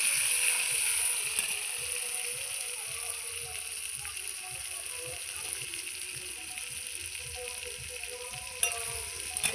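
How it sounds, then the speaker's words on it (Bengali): Tomatoes frying in oil with black cumin and green chilli, a steady high hiss of sizzling with low rumbling underneath and a single sharp clink near the end. "টমেটোটা ভালো করে ভেজে নেব।"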